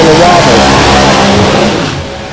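Chevrolet Cobalt H-altered automatic drag car on big tires pulling away from the starting line at a Bowling Green drag race, a loud, steady engine roar that fades slightly as it leaves, with crowd noise underneath.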